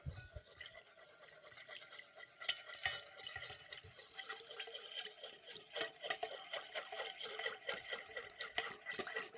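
A utensil stirring a fizzing baking soda mixture in warm water for a growing-candle experiment, with quick, irregular scraping and clinking strokes against the container, close and fairly quiet, the rhythm busy and uneven.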